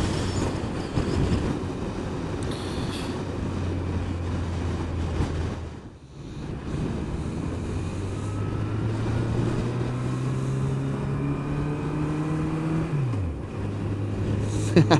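A motorcycle carrying a pillion passenger on a charity egg run shifts from first to second gear. The engine's drone rises, cuts out briefly at the change, then climbs again steadily under wind rush.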